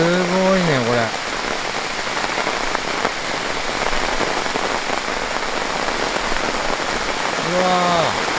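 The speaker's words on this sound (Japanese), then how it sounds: "うわー、降ってきた。 しかも結構土砂降り。" Heavy downpour pounds a tent at a lakeside campsite in Hokkaido, a continuous loud roar of rain, with short exclamations from a man at the start and end.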